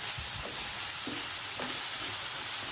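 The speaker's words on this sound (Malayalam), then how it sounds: "ചൂടായ എണ്ണയിലേക്ക് ഈ സവാള ഇട്ട് കൊടുക്കാം." Chopped small onions sautéing in hot oil for a Kerala-style egg curry: a steady, close broadband sizzle with a few soft stirring scrapes, no voices.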